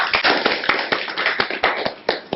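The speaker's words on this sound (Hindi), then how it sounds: "जोरदार तालियां हो जाए" A small group of people claps at a village health talk on infant feeding, giving a short burst of loud, distinct, fairly uneven hand claps close to the microphone.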